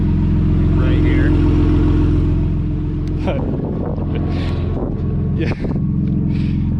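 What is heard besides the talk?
BMW E46 M3 S54 turbo engine running with only the downpipe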